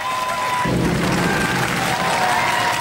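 Crowd cheering and clapping in a robot combat arena during a Robot Wars bout, a short loud burst of applause with a deep rumble partway through.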